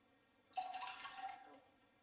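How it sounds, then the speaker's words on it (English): Tonic water poured from a bottle into a glass of Four Pillars Bloody Shiraz Gin, a quiet liquid splash and trickle lasting about one second, alone with no talk. "let's have a bit of tonic"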